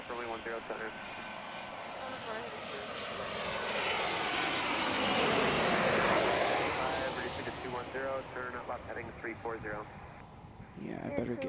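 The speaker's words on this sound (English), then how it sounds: "our next arrival here, coming up on approach for O'Hare here, is Delta" A Delta airliner's jet engines roar as it comes in on approach to Chicago O'Hare, swelling to a loud peak mid-pass and then easing, with someone talking over the noise throughout.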